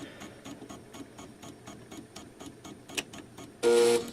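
An Epson Stylus Color 800 printer resets itself with a run of quiet, evenly spaced mechanical ticks and clicks, one sharp click near the end, then a brief loud whirring burst.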